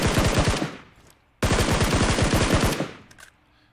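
Two long bursts of rapid automatic fire from a SCAR assault rifle in a mobile video game, loud and close, separated by a brief pause, with a faint tail after the second burst.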